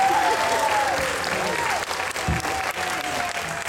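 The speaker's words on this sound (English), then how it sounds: "Another round of applause, please." Audience at a community stage performance by children applauds, dense clapping carrying on throughout with a faint melodic tone and some voices underneath before it thins slightly.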